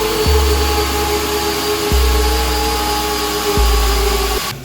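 An electric blender whirs loudly while blending sauce for Jamaican-style BBQ fried chicken, its steady motor tone running in three back-to-back pulses before cutting off at the end.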